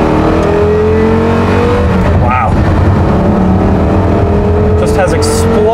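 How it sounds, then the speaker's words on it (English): A Porsche Carrera GT engine revs hard while driving, a loud continuous roar with rising pitch sweeps suggesting gear changes, close and dominant throughout, with a person exclaiming over it. "You can hear everything that goes on in the engine, you hear the gear changes, you hear the tires on the pavement."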